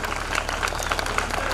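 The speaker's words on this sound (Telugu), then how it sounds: "ఒకసారి అందరికి చప్పట్లు కొట్టండి." An audience at a youth Christmas church gathering claps steadily in applause, with a dense, even patter of many hands sustained throughout.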